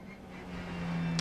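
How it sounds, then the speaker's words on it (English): Touring race car at the 2019 WTCR race in the Netherlands, sliding sideways on cold tyres; a steady engine drone with a sustained low tone that rises slightly in loudness, heard close without talk. "Cold tyres, Tashi sideways."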